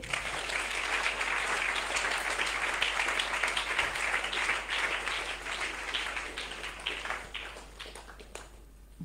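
A church congregation claps together in a sustained round of applause. It is steady and fairly even, then thins out toward the end, heard from a little distance in a reverberant hall.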